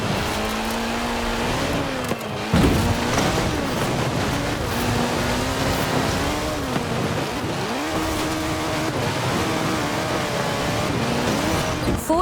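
Ford RS200 with a 1.8 turbocharged Cosworth BDT engine and all-wheel drive, racing in Forza Horizon 4, its engine droning loud and steady as revs climb and dip through repeated gear changes.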